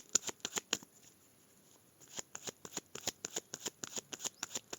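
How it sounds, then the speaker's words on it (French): A deck of tarot cards is shuffled and cut close by: quick crisp riffles, a brief pause, then a longer steady run of rhythmic card slaps in a quiet room. "On va faire une coupe déjà avec le tarot des enchanteurs."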